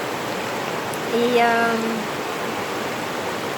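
Rushing river rapids at a riverbank, a steady broadband wash that runs through the whole stretch, with a brief bird chirp and a short spoken word over it.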